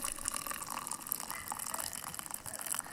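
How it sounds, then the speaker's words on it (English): Coffee pours from a Snow Peak French press into a cup at a camp fire, a quiet, steady liquid trickle close by with no speech. "you can pour your coffee without having any coffee grounds in your cup"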